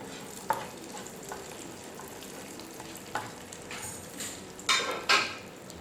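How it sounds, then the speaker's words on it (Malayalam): Cashews and raisins are stirred in a sizzling pan for a payasam, a soft steady fry hiss beneath several sharp scraping spoon strokes, the loudest near the end, close by with no talking. "ഇനി നമുക്ക് നമ്മുടെ കാഷ്നട്ടും കിസ്മിസും ചേർത്ത് കൊടുക്കാം."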